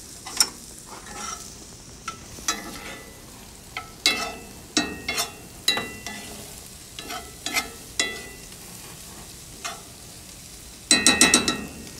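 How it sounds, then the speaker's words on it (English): Broccoli tossed into a hot pan with almonds and lemon, giving a soft, steady sizzle broken by repeated sharp clacks and scrapes of stirring, ending in a quick burst of rattling pan noise. "we're just going to add this broccoli right into the pan of the almonds and the lemon"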